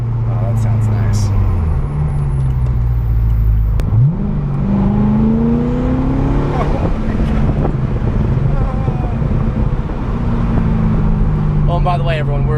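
A tracked 2013 Corvette Z06 engine revs at half throttle, loud and up close, with rising and falling tones under heavy wind noise.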